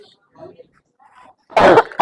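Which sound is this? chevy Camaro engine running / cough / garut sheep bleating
cough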